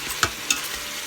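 Beef browning in a pan with onions and garlic: a steady sizzling hiss broken by two sharp scrapes of a stirring utensil, close and loud.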